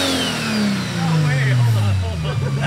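A Nissan S-chassis car engine revs and drones, pitch sliding downward as it eases off, close and loud, with people talking over it.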